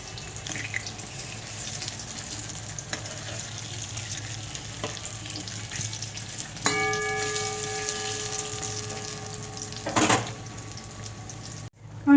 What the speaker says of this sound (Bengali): বেগুনগুলো কিন্তু আমি খুব কম আগুনে ভাজছি